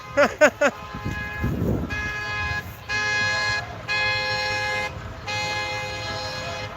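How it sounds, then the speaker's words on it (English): Car horns blare at a hands-off street protest in Kansas City, with several short toots and then long sustained honks overlapping, loud and close, with a brief low voice in the middle. "you're not going to be able to hear me over the honking much anyway"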